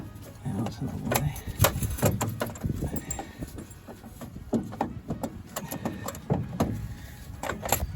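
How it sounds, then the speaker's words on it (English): A hardened fiberglass-style exhaust repair kit on a classic car clinking and rattling as it is knocked while working under the car, sharp, irregular clinks close by with occasional voice in the background. "that clinging noise you can hear is the fiberglass style exhaust repair kit"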